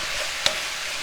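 Chicken and vegetable noodles tossed in a wok, a steady hiss of frying under one sharp scrape of the utensil midway.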